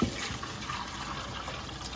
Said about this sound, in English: let's pour the rest in there through the sieve